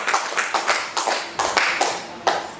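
A church congregation claps in praise of God: a steady, rhythmic run of about a dozen sharp hand claps, fairly close and with no talking.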